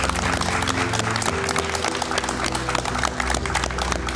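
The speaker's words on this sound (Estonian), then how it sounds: "teeme suure aplausiga" A crowd at the Noor Meister 2025 competition bursts into dense, continuous applause, loud and unbroken throughout, mixed with music or hall noise underneath.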